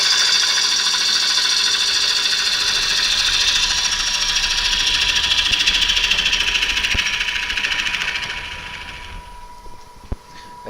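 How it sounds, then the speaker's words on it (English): Wood lathe spinning a workpiece while a bevelled chisel cuts along it during a glasslike lacquering finish job, giving a steady loud whirring hiss that fades out near the end, followed by a couple of faint knocks. "So I'm keeping the bevel in contact with the wood as we go through there."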